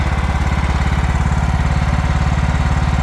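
A 2004 John Deere L110 riding lawn mower engine running steadily with a rough, rhythmic low chug, loud and close, with no voices over it.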